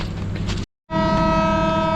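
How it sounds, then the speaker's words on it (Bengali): The Rupshi Bangla Express pulls away from Bhanga junction, a rumbling train noise broken by a short gap, then a loud sustained horn-like tone over the continuing rail drone, close by. "তারপর আবারও ছেড়ে যাচ্ছে ট্রেন ভাঙা জংশন থেকে"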